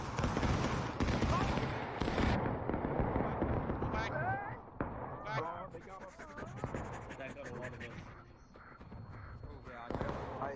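Musket volley fire in the Civil War game War of Rights crackles as a dense burst of overlapping shots, then thins to scattered pops, with voices calling and talking over the gunfire throughout.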